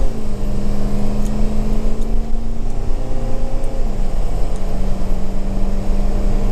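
A Ford 6.0 Powerstroke diesel pickup truck with no modifications pulls at full throttle, its loud droning engine note holding steady then shifting lower as it upshifts, heard from inside the cab without voices.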